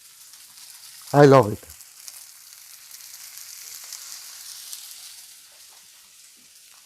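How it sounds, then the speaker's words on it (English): Thin potato slices sizzle in a frying pan with a soft, steady hiss that runs throughout, and a voice speaks briefly near the start. "gonna drop our potatoes in the fry pan. Don't you love the sound when you start cooking?"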